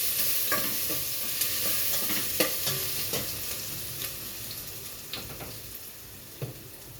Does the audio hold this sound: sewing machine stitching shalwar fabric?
no